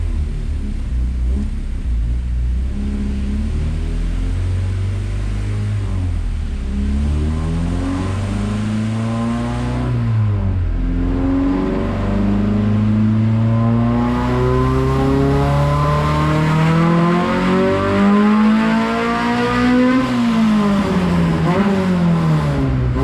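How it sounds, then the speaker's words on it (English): A Honda Civic with an H22A engine revs on a dyno under nitrous, pulling through third gear and past VTEC. The engine note rises steadily, drops and climbs again over a long, loud, sustained run with no voices. "So I'm going to bring it up to VTEC in 3rd gear, and then activate the kit on the dyno."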